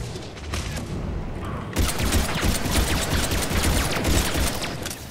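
Rapid gunfire in Mass Effect 3 multiplayer rattles loud and dense against an enemy, a sustained burst of crackling shots that steps up in intensity partway through, no voices.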